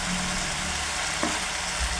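Onion paste frying in a pan for a Nepali-style paneer curry, a steady close sizzle and hiss running evenly throughout with a brief soft scrape near the middle.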